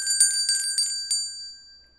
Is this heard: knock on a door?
no